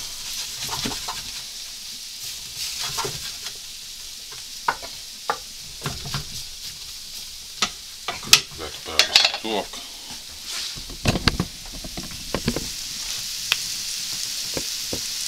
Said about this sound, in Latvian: Nu vienkārši cepas